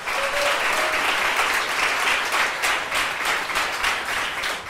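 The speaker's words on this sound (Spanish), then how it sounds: "Denle un aplauso al Señor" A church congregation applauds in a sustained, loud, even burst of clapping, close and continuous with no talk over it.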